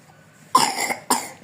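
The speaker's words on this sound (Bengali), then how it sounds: "ওরে বাবা রে, আমার কাশি হয়েছে।" Two sharp coughs from a person, close and loud, separated by a brief pause in an otherwise quiet room.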